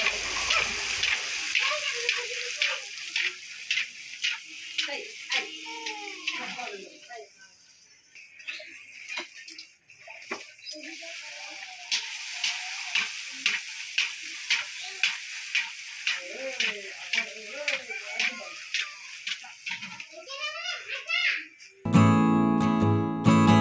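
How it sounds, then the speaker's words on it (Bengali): Fuchka (puri) dough dropped into hot oil in a village fuchka-making workshop, a steady bubbling sizzle with repeated clicks and stirring taps, loud and close, with a voice talking over it at times. "এই যে ফুচকা চলে গেল একেবারে তেলের মধ্যে।"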